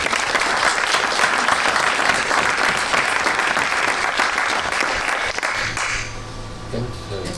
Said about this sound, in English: can I ask you to give them all a warm round of applause?